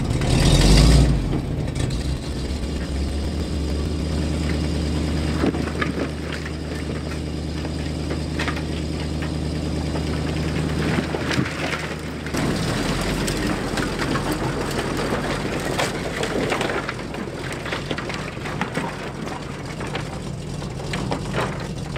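A dump truck's diesel engine runs steadily at close range, loud and rumbling throughout, with a brief rise in effort near the start and a shift in tone about halfway through.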